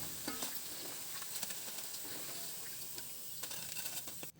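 Pempek dos cakes, made without fish, frying in hot oil: a soft, continuous sizzle with light crackles and a few stirring scrapes, close but quiet.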